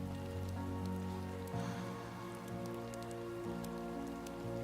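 Timefall rain in Death Stranding 2 patters steadily on surfaces, a soft continuous wash of drops alone under a low droning hum.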